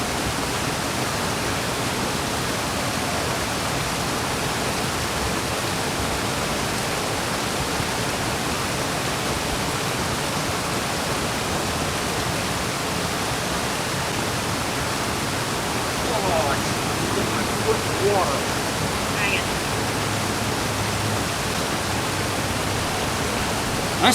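Stream water flows steadily beneath a bridge on the Palmetto Trail in South Carolina, a constant broad rushing wash that stays even throughout, with a few faint sounds near the middle.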